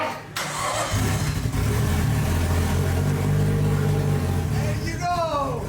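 A Nissan Skyline engine cranks and catches after sitting unused for over two years, then settles into a loud, steady idle; a voice cheers briefly near the end.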